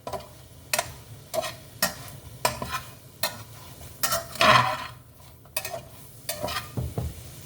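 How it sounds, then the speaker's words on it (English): Food cooks in a pan with a low, quiet sizzle, broken repeatedly by sharp clinks and scrapes of a utensil stirring, plus one longer scrape partway through. "that's simmering a little bit"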